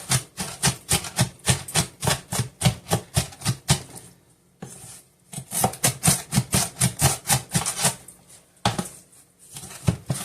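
Fish kebab mixture being pounded and chopped by hand: steady, rapid thuds at about three strikes per second, close and loud, broken by a couple of short pauses.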